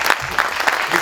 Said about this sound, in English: Can we give them a hand of applause, please?